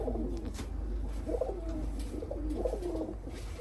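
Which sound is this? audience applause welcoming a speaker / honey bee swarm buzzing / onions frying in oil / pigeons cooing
pigeons cooing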